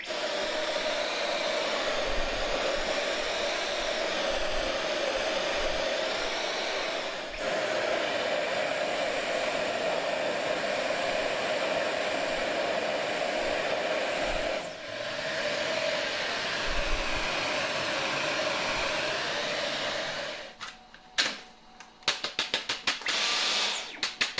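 A Dyson V11 cordless vacuum cleaner motor drones steadily and loudly at close range for about twenty seconds while dusting a cabinet top, then shuts off, followed by a few clicks and handling noises.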